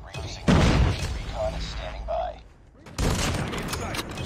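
A sniper rifle fires in Call of Duty Ground War with a sharp, loud blast, then falls into a ringing tail under distant battlefield noise, and a second shot cracks out later.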